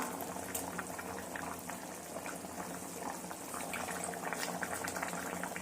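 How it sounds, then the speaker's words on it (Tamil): A pot of chicken kuzhambu curry bubbles steadily at a rolling boil, a continuous soft simmering hiss with small pops and gurgles close by. "இப்போ குழம்பு நல்லா கொதிக்க ஆரம்பிச்சிருச்சு."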